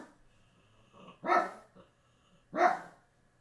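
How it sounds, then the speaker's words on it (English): A dog barks twice, about a second apart, at moderate distance. Each bark is sharp and full, with quiet room noise between them. "Dog's barking again."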